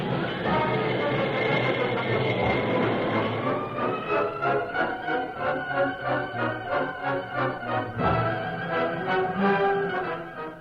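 A train rumbles along in an old radio drama, with rhythmic clatter and a steady mechanical drone, fairly loud, with a brief louder burst near the end.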